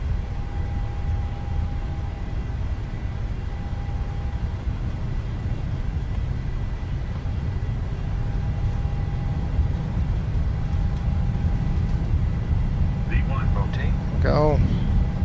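Boeing 737-800 jet engines at takeoff thrust in a flight simulator game, a steady loud broadband rumble and roar throughout with a thin constant whine, ending with a brief chirpy tone near the close.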